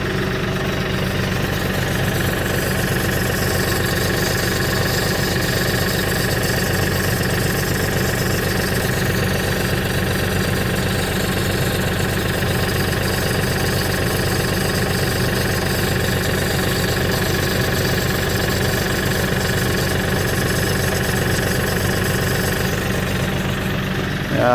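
A Kioti NX4510 tractor engine idles steadily and loudly nearby with a persistent knocking, rattling strange noise throughout and no talk.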